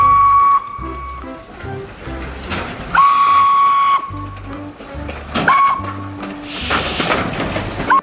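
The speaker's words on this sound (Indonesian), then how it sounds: "Widih, yang ini kereta Thomas" A toy Thomas train runs along with its steam whistle sounding several times, steady tooting blasts between chugging motor noise and faint toy rattles.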